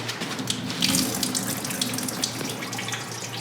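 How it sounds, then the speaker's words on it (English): Tap water runs steadily into a sink while a distillation apparatus is rinsed out, a continuous close splashing hiss with small gurgling variations and no voices. "I'll come over to the sink and give it a dump."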